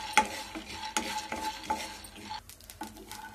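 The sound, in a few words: peanuts being roasted and stirred in a pan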